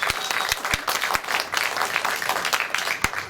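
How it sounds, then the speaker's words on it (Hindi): Audience applause for poets at a Hindi literary evening in an auditorium, steady dense clapping from a crowd with sharp individual claps standing out, loud and continuous throughout. "इन सब कवि और कवियत्री निशा जी के लिए, सबके लिए जोरदार तालियां"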